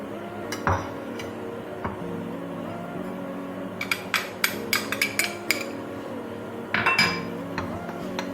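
Flour and baking powder are stirred in a bowl while making gulab jamun, with light clinks and taps of a utensil against the bowl over a steady kitchen hum. The clinks come in a quick burst near the middle.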